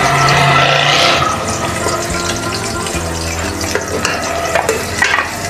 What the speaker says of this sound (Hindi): प्याज डाल रहे हैं।